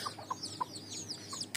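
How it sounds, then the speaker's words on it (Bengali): Native desi chickens cluck softly in a village setting, giving several short, faint calls over about a second and a half. "দেশি মুরগি,"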